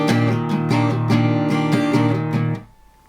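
An acoustic guitar strums a steady, bouncy pop rhythm for a song, with evenly spaced, crisp strokes repeating for a few seconds before the chord rings out and fades.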